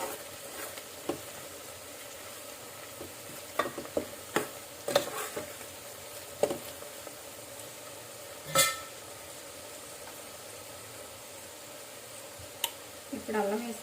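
Turmeric and spices frying in oil for a Telangana-style mutton curry, a steady low sizzle broken by sharp scrapes and clinks of a spoon stirring the pan, with a voice speaking at times.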